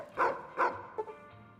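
Rex, a dog in Fallout: New Vegas, gives two close, sharp barks in quick succession, followed by a softer short yip.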